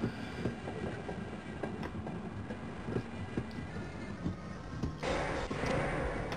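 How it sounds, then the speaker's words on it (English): A tram in the video game Half-Life runs steadily along its rails with a continuous low rumble and faint rhythmic clatter, growing slightly louder and brighter near the end. "So I must have to take this other guy's tram."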